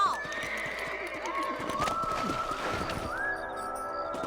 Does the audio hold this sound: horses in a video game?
yes